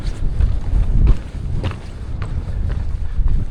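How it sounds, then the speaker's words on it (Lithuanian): Cold wind gusting hard across a microphone on an exposed hiking trail in Swedish Lapland, with low rumbling buffets and a few faint footfalls, no speech. "vėjas šaltas pučia"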